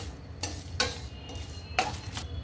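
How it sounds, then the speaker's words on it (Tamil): Star anise, cloves, mace and nutmeg are dry roasted in a pan, rattling and scraping in a few quick stirring strokes over a faint background hum. "இப்போ இது எல்லாத்தையும் ட்ரை ரோஸ்ட் பண்ணிக்கலாங்க"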